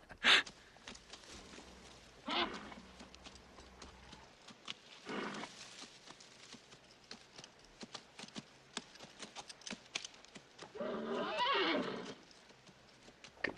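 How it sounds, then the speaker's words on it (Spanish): Horses neigh and whinny in several loud bursts over scattered clip-clopping hooves, with quieter stretches of shuffling between the calls and no talking. "Caballos."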